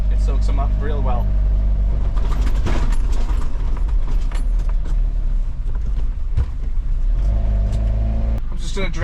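A Nissan Atlas 100 diesel truck drives over bumps, its engine droning steadily with dull thuds and rattles from the road, loud and close, while a voice talks throughout.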